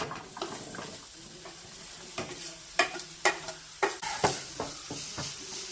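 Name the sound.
onions sautéing and being stirred in a pan for biryani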